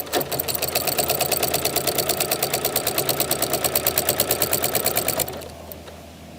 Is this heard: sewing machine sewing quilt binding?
yes